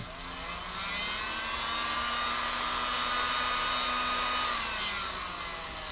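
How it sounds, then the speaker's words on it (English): A heat gun roars steadily at close range while shrinking heat shrink tubing on a Raceflight 3 inch racing drone build, its airflow swelling slightly in the middle before easing off, with no talking. "grab the heat shrink, separate it, pop it in, boom, and then go ahead and heat that up."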